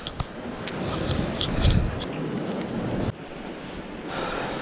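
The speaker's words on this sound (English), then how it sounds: "Wind's really, really picking up" Strong coastal wind buffeting the microphone while fishing from shore, a steady roaring rush with surf-like swells, loud and close, dropping briefly then continuing, without talk.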